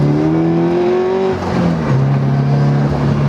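A turbocharged Scion FR-S engine pulls hard through a corner, loud and close, its steady drone climbing in pitch, breaking off briefly, then settling into a lower sustained note.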